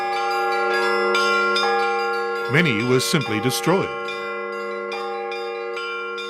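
Russian church bells ring steadily throughout, a dense layered peal with sustained overlapping tones, while someone talks over the middle stretch.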